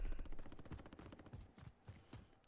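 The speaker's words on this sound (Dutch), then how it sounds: "Ik hoor wel aardig wat schoten." Faint, distant gunfire in a solo battle royale video game crackles as a rapid string of sharp shots.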